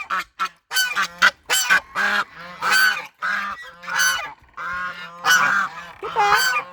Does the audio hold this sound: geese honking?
yes